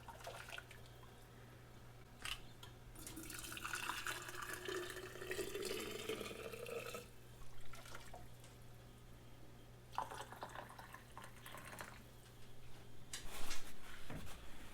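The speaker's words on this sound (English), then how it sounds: "So we're going to fill our jars to 1-inch headspace." Hot broth poured from a cup into canning jars, heard as a soft continuous liquid pour with light clinks of glass and utensils, fairly close and without talk.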